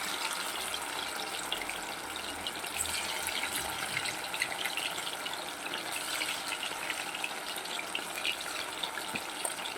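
Lote (Bombay duck) fish frying in oil over a medium flame, a few pieces at a time, giving a steady, continuous close sizzle and hiss with no talking.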